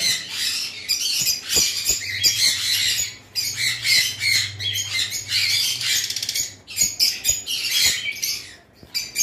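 A pair of Fischer's lovebirds in a cage squawk in rapid, shrill, overlapping bursts, loud and close, with a low hum running beneath the chatter.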